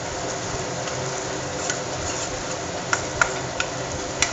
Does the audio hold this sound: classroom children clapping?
no